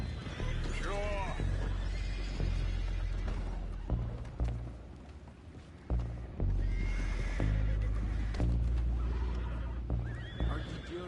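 Horses neigh and whinny repeatedly in Red Dead Redemption 2, with hooves clip-clopping and low rumbling game ambience underneath, several loud, close whinnies rising and falling over the scene.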